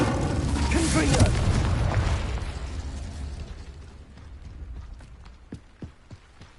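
Spell explosions from the video game Hogwarts Legacy burst loudly at the start and fade into a rumbling decay, followed by a few sharp, quieter pops and clicks spaced out near the end.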